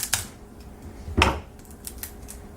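A knife slices the bottom off a cauliflower on a board, producing a couple of short crunchy cuts with light clicks in between, heard close with no talk.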